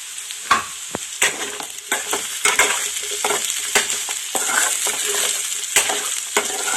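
Potato pieces stirred with salt and turmeric in a pan for a potato tomato curry, giving repeated scraping and clattering strokes over a steady close sizzle, with no talking.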